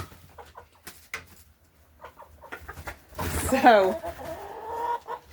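Hens cluck and squawk inside a new wooden chicken coop with a metal roof: scattered soft clucks build to a loud, close burst of squawking, then settle back, with a voice briefly heard.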